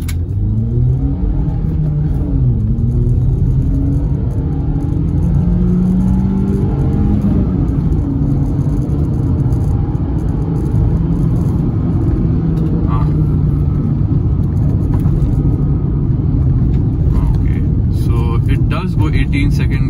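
A Skoda Rapid engine revs hard and climbs through the gears, loud and close, with a steady rumble throughout and a voice talking over it.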